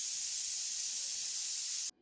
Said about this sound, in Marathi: आपल्याला कुकरच्या ना 4 शिट्ट्या काढून घ्यायच्या